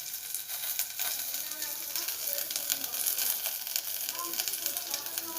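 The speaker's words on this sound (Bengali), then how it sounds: "এবারে সবজিগুলো সব তেলের মধ্যে দিয়ে দিলাম" Vegetables frying in oil with turmeric, cumin and salt, giving a steady broadband sizzle with scattered crackles throughout.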